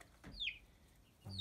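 Backyard chickens in a converted garage coop give short clucking calls, one near 0.4 seconds and another starting at the end, set against quiet background noise.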